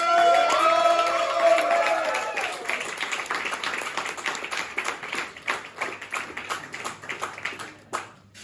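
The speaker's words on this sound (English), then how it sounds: "Put your hands together for Johan Olsson!" A comedy club audience in Malmö claps and cheers as the next comedian is introduced, opening with whoops and a loud burst, then thinning into distinct, uneven individual claps that fade out near the end.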